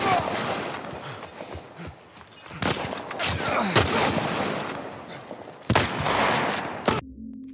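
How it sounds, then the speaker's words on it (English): Rifle fire in The Last of Us Remake on Grounded difficulty: several sharp broadband shots ring out amid busy combat noise, with louder, distinct cracks near the middle and toward the end. "I'm going to use a rifle bullet on the next enemy."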